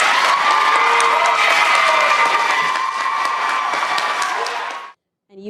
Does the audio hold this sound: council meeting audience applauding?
yes